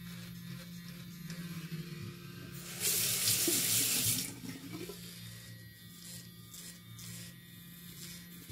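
A Gillette Styler razor is rinsed under a running tap. Steady water flow runs throughout, swelling into a louder, brighter gush for about a second in the middle, with a faint buzz underneath.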